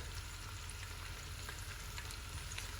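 Potatoes with sweet paprika, chopped parsley and coriander fry in a pan, giving a constant dense sizzle with faint stirring scrapes, close and steady, no voices.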